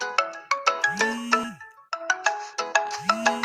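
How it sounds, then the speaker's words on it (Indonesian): A mobile phone rings with an incoming call. The loud, melodic ringtone repeats a bright phrase twice, close and clear, with no voices over it. "Siapa yang telepon itu, Bang?"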